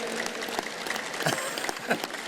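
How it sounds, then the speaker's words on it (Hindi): An audience at a Swami Ramdev yoga session claps in a steady, dense patter throughout, fairly faint and even, with no talk over it. "जोरदार ताली बजा दो भाई"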